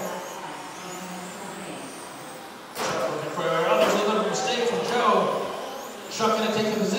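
RC toy cars racing around an indoor track in a USGT main event, a thin buzzing motor whine that swells sharply after a few seconds and stays loud, with a commentator talking over it throughout.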